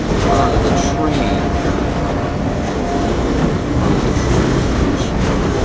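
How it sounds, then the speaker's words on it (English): A train rumbles past in the video game Half-Life 2, a loud continuous rolling roar with rattling and clacking that fills the whole clip, with a voice talking briefly underneath. "The train."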